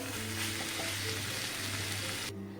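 Amla and jaggery in a cooking pan are mixed as they heat, with a soft steady sizzle under a low hum that cuts off near the end.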